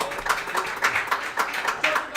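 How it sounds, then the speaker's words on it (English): Audience applause for guests on a talk show at Avicolli's, a steady patter of many clapping hands lasting a couple of seconds, moderately loud with no voices over it. "Please give Jake and Louie a round of applause."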